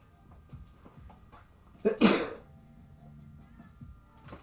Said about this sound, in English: Just sneezed.